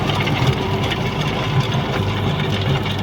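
A tractor engine idles and runs in a farm field during rotavator work, a steady close mid-low chug with slight knocking pulses and no talk.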